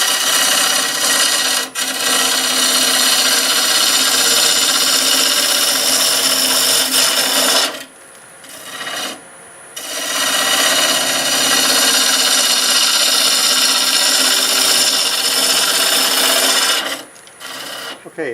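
A wood lathe spins a black walnut bowl blank at about 1,000 RPM, a loud steady whirring with broadband scraping from the cutting, continuous apart from two brief pauses.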